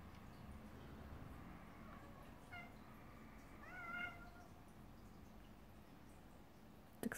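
A house cat meows indoors with a few short, mid-distance calls near the middle of the stretch, over a steady low background hum, followed by a brief knock at the end.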